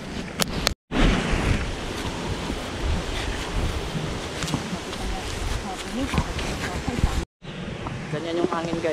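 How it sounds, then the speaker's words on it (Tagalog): Strong wind roars steadily across the microphone on a farm, buffeting it with heavy low rumble, briefly cutting out twice before resuming. "Ganyan yung hangin, guys."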